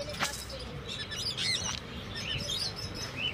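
Many small caged birds chirp and tweet at a Sunday bird market in Shreerampur, their high, overlapping calls steady throughout against a busy background hum.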